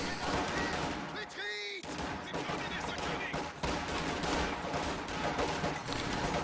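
Rattling rifle fire crackles through a Company of Heroes 2 battle, with dense, rapid volleys of gunshots layered over a steady, busy background of battlefield noise.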